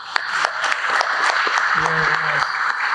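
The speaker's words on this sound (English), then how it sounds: "Give them a round of applause." An audience at a defense conference applauds a panel about to begin, a sustained patter of clapping with a voice speaking briefly over it.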